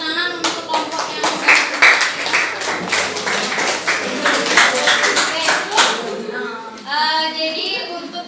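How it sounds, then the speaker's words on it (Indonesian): Classroom group clapping after a student presentation, a quick burst of many hands slapping together, close and lively, with voices chattering among the claps and trailing into speech at the end. "Oke, tepuk tangan untuk kelompok yang"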